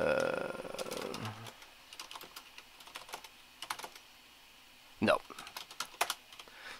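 Rapid clicking of keys on a computer keyboard in irregular bursts, close by, with a brief voice at the start and a small thump midway, while typing on a NeXTstep 0.8 computer.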